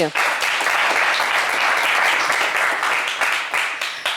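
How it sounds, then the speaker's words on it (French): Steady audience applause from a studio crowd on a French television game show, dense and continuous for several seconds, loud and close, with a voice faintly underneath. "on vous applaudit"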